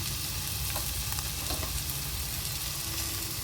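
Leftover chapati kothu parotta with tomato and garam masala is stirred and fried in a pan, giving a continuous loud sizzle with scraping stir strokes throughout and no voices.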